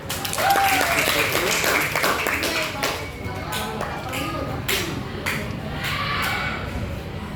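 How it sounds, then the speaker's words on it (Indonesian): A school class claps together, a fairly loud burst of scattered hand claps that thins into separate claps and taps, with children's voices mixed in. "Tepuk tangan dong,"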